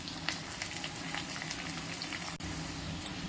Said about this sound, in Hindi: अब बारीक कटा हुआ प्याज डाल देंगे। अब इसको अच्छे से भून लेंगे।